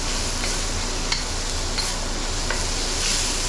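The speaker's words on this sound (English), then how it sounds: "I'm just gonna cook that till the onions are lightly softened in there" Onions and bacon sizzling in a pan for bacon and egg fried rice, a steady dense frying hiss with a few faint stirring clicks, close and constant, with no talk.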